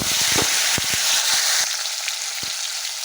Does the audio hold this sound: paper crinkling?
no